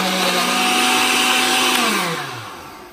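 A blender whirs at a steady high pitch while blending a banana and ice smoothie, then winds down as the motor slows and stops, close and alone without talk.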